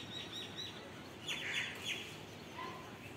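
Two myna birds outdoors under cloudy, breezy weather give a few short, faint chirps and calls from a distance over steady wind and background noise.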